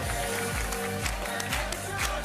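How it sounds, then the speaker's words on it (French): Studio audience applause on a French TV game show, loud continuous clapping under a rhythmic pulsing music bed with a thumping beat, with no clear break from start to end. "repartez par le fond du plateau applaudissements."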